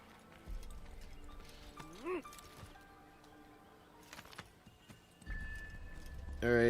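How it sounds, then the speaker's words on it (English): A horse in the Assassin's Creed video game is heard with clip-clopping hooves and a whinny, moderately close over outdoor ambience with birds. "Alright, let's go, horsey."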